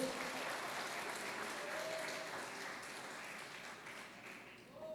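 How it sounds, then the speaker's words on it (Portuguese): A church congregation applauds continuously, a dense steady wash of clapping with faint voices mixed in underneath. "aplauda o Senhor Jesus"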